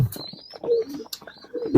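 Pigeons coo in low, throaty murmurs close by, mixed with a few thin chirps and no talking.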